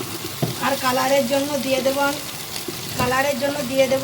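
Onions frying with salt in a pan give a steady sizzle, with a voice humming or talking faintly over it throughout.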